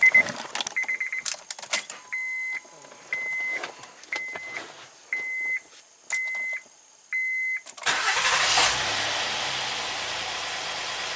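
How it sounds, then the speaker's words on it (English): Chimes and key clicks sound, then a series of regular warning beeps, before a Honda Accord with a misfiring VCM engine cranks and catches into a loud, steady idle, close up. "start up the car, and see if it runs on all"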